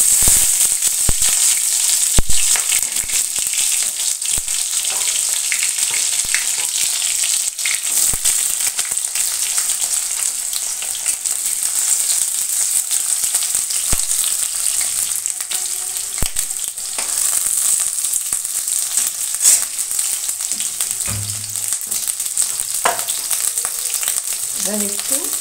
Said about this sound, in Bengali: এবার আলুটা ছোট ছোট করে কাটা ছিল, এটাকে এখন তেলের মধ্যে ছেড়ে দিই।